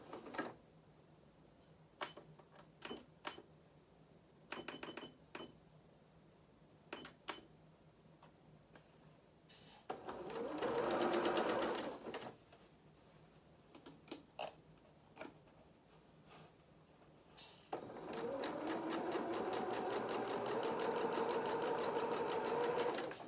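A sewing machine stitches the side seams of small doll culottes, with scattered ticking and clicking at first, then a short run of stitching and a longer steady whir near the end, close and fairly quiet.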